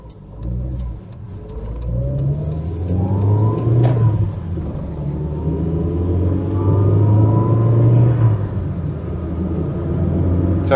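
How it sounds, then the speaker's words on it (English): A Nissan Micra K11 engine hums steadily while driving, still warming up and revved only gently, with a continuous low rumble and mild rises in pitch as the car builds speed to about 40 mph. "So I'm not revving the engine too hard because it's still warming up"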